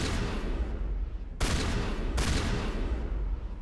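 Sustained energy-weapon fire in the video game Mass Effect 1, a dense, loud, unbroken barrage with two sharp bursts standing out partway through.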